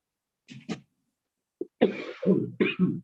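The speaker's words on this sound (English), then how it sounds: "My chest is flaring up, so I might be coughing a lot today." A man whose chest is flaring up coughs nearby: two short coughs, a pause, then a burst of harsher, throaty coughs and throat clearing in a quiet room.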